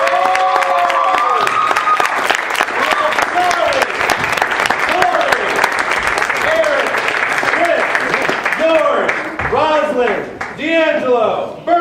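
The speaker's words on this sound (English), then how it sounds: "give a big round of applause" Big round of applause and cheering from an audience welcoming improv performers at a comedy show, dense sustained clapping with whoops, fading as a voice starts talking near the end.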